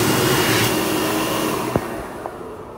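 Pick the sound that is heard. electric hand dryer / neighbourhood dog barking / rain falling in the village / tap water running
electric hand dryer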